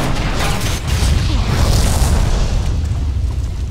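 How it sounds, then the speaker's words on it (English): Explosion in the Resident Evil 6 video game during a boss chapter: a loud, sustained low-heavy boom with rumbling debris that swells around the middle and then holds steady to the end, with no talk over it. "But Jake, one cannot eat an explosion."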